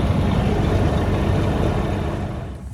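A golf cart engine running, a loud, steady, rough low rumble heard close up, holding constant before easing off slightly toward the end, with no voices.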